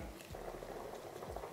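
Water at a rolling boil in a pot for chicken biryani, a soft, continuous bubbling and seething at low volume with no voices over it.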